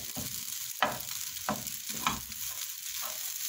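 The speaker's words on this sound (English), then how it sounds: "I give it a good mix." Vegetable fried rice being stirred in a hot pan, a continuous soft sizzle broken by a handful of scraping clatters from the spatula at an uneven rhythm, close and alone.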